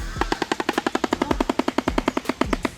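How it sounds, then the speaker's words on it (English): A rapid, rhythmic wooden clattering of a shoebill's bill, about twenty sharp snaps in quick succession like machine-gun fire, loud and close. "These birds greet each other by snapping their massive bills so fast it sounds like a machine gun"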